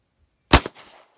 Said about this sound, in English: Can I shoot with wet hands?